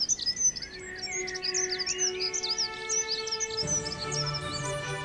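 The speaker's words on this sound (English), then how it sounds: "The avian concert continues until late in the evening." Several birds sing together in a spring evening chorus, overlapping bright chirps, trills and whistles rising and falling close by, with a lower steady call joining near the end.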